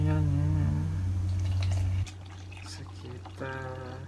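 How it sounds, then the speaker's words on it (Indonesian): Water poured into a shaker holding whey protein powder, a steady close pour that shifts in tone as the level rises, with a humming tone throughout and a voice speaking briefly. "Kita tambahin airnya."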